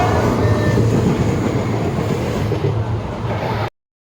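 Rumble of a moving passenger train heard from inside a reserved compartment, a loud steady rolling roar with faint rhythmic clatter that cuts off abruptly near the end.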